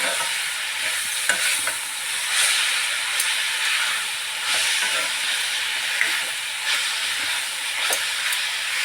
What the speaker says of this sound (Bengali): এবার নাড়ি দিচ্ছি